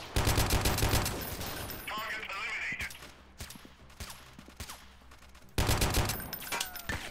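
Machine gun fire in the game Freeman: Guerrilla Warfare: loud rapid bursts at the start and again near the end, with quieter scattered shots and a voice talking in between.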